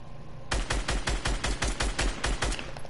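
Rapid video game gunfire erupts after a half-second pause, a steady burst of about a dozen evenly spaced shots, loud and close, with no talking over it.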